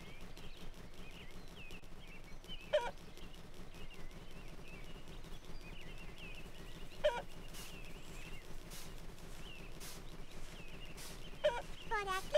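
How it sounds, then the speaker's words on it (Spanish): Hens cluck in the My Friend Peppa Pig video game, a few short squawking calls spaced several seconds apart under a steady backdrop of game music and speech. "Parece que las gallinas de la abuela han escapado del gallinero."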